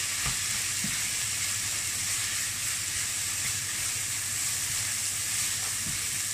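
Minced pork and bamboo shoot filling stir-fried in a pan as it dries out, giving a steady close sizzle with a few soft scrapes of the spatula throughout.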